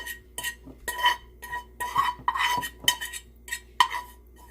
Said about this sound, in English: I still go ahead and kind of like stir it around a little bit